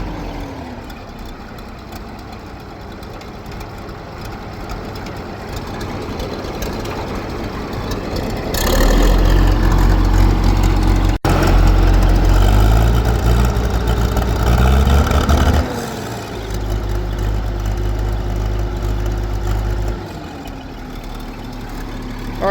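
Case 500 diesel tractor engine running at fast idle, a steady low rumble that swells louder for several seconds in the middle and then settles back, heard alone without talk.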